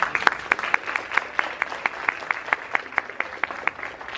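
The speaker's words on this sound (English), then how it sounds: "let's give them a round of applause" Audience at a graduation ceremony clapping in a steady, fairly even rhythm, individual claps standing out distinctly over a soft background, moderately loud and continuing throughout.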